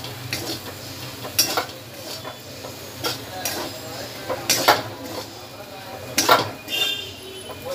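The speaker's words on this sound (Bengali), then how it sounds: "এটাকে নাড়তে থাকতে হবে, না তো দলা দলা বেঁধে যাবে।" A chana dal barfi mixture is stirred in a pan, with a spoon scraping and clinking against the metal in irregular bursts, close and moderately loud, over faint background noise.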